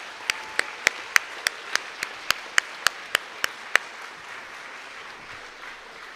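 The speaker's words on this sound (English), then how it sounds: "let's give them a round of applause for the support." Audience at a graduation ceremony gives a round of applause, heard here as a quiet, somewhat distant crowd wash punctuated by a dozen sharp, evenly spaced claps from one nearby person before fading.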